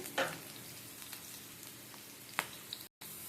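Soft, steady frying sizzle in a pan, quiet and close, with a couple of sharp clinks of a spoon against the metal before a brief drop to silence.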